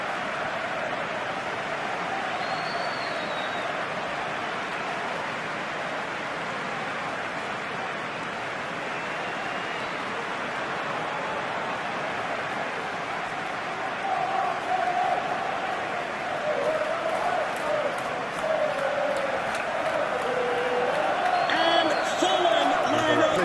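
Stadium crowd noise from an eFootball simulation of Fulham vs Chelsea, a steady, fairly distant roar of a capacity crowd that swells louder in the final seconds.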